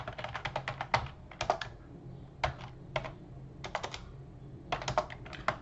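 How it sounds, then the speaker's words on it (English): Code being typed on a computer keyboard: bursts of crisp, close key clicks in quick runs, separated by short pauses. "let's go ahead and type in that code here"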